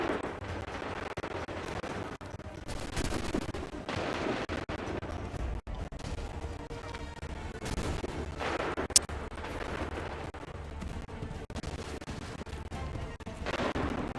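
Battlefield gunfire and artillery-like blasts rumble continuously in the Assassin's Creed 3 game, dense and loud, with repeated heavy booms and a sharp crack near the middle, with no clear talk on top.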